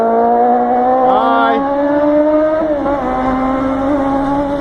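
A loud motorcycle engine, a Honda Hornet, drones steadily nearby, its pitch rising and falling as it passes, with a brief exclamation from a voice over it.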